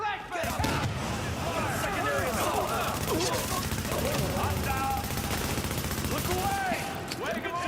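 Sustained automatic gunfire rattles through a firefight in The Division, rapid bursts layered with impacts and clatter, while a voice talks over the shooting.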